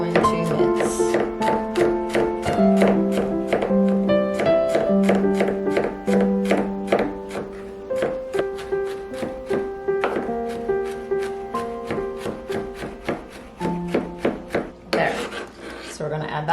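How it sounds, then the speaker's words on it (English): Garlic cloves minced with a knife on a cutting board, a rapid, regular run of sharp close chops that continues throughout, with a faint tonal hum under the first half. "And we are going to mince."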